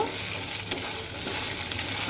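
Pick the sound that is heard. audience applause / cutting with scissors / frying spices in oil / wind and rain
frying spices in oil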